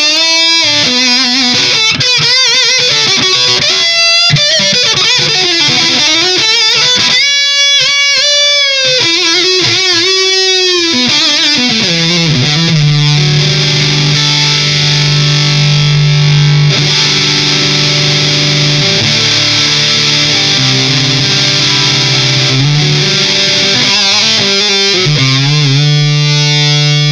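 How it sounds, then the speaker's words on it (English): A fuzzy Big Muff clone distortion pedal run with a vintage Boss CS-2 compressor sustainer drives a thick, saturated electric guitar, first in busy bent phrases, then long sustained notes that ring on; loud and steady, no voices. "this particular distortion is kind of a Big Muff clone"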